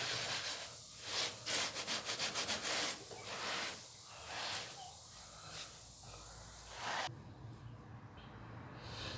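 A wooden cutting board scrubbed in a kitchen with household cleaning items gives a run of close, rough rubbing strokes, including a quick burst of short rapid scrubs, before it drops to quiet.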